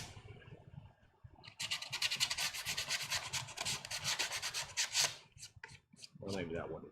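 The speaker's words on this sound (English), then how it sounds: "here's some more faux sanding for you because I already sanded it." Hand sanding a Death Trooper armor thigh piece, rapid rhythmic scratchy back-and-forth rubs close up, in bursts with short pauses and a brief spoken moment near the end.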